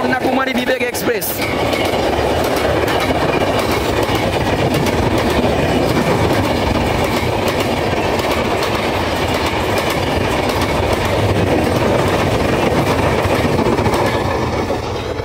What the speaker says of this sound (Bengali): যে ট্রেনটা যাচ্ছে সেটা হচ্ছে ডিব্রুগড় কন্যাকুমারী বিবেক এক্সপ্রেস।